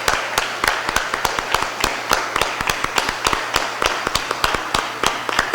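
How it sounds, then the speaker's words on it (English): Applause at a Board of Aldermen meeting, rendered as a steady train of sharp claps, fairly close and regular, like a small group or one person clapping repeatedly. "Let's give these young men a great round of applause."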